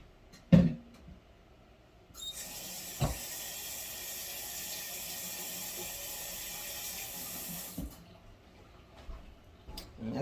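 Water runs from a kitchen tap into a sink in a steady, hissing stream for several seconds, framed by a few sharp clunks of dishes or the faucet before and after.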